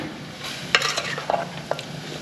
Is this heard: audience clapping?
no